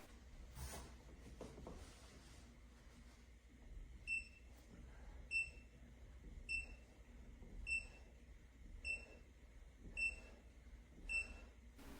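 A short electronic beep from a push-up board's rep counter repeats about every 1.2 seconds, faint and high-pitched over quiet background shuffling and breathing.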